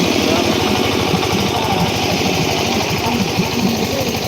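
A loud diesel generator drones steadily and continuously close by at a tournament, with a constant low rumble and mechanical hum, and voices faintly underneath.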